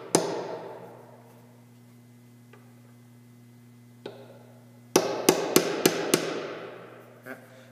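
Hammer driving nails into wooden corner trim on a wood chest: an isolated strike, a lone knock, then a quick run of five sharp close blows with one last tap, over a steady low hum.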